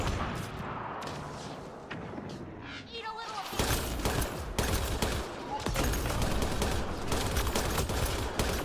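Gunfire from a character's gun in a video game, a dense rapid volley of shots that starts about midway and keeps going loudly to the end, with voices talking beneath it before the shooting begins.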